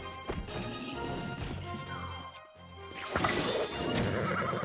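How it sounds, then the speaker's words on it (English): A horse in Zelda: Tears of the Kingdom lets out a loud whinny after being struck, followed by a brief thud and a second neigh amid clattering game noise. "Oops, I hit the horse."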